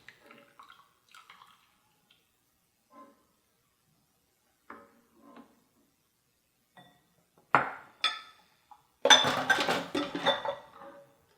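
A spoon gently stirs a milk mixture for homemade mozzarella in a pot, making faint sparse clinks and soft liquid sloshes, then a few louder scrapes and a brief burst of clattering toward the end.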